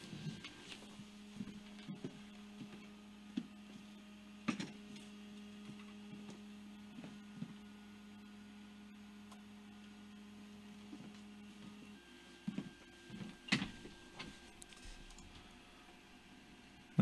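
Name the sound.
3D printer printing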